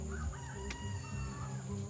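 Roosters crow and hens cluck on a small farm near a bean patch, a steady run of crowing and fowl calls heard close by with no talking.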